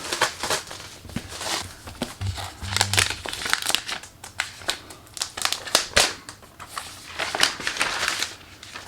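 Close crinkling and crackling of plastic wrap being peeled off a new iPad Pro box and pulled away in quick bursts, with a few brief soft thumps.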